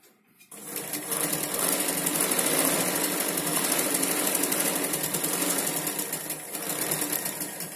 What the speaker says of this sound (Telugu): స్టిచ్చింగ్ చేసుకోవాలండి.